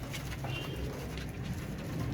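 Pigeons coo softly amid a steady loft hum, low murmuring calls blending together close by for a couple of seconds.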